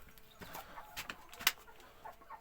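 Backyard chickens in a village yard cluck softly at a distance, with scattered short calls and a few sharper bursts over a quiet outdoor background.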